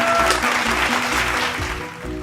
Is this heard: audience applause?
yes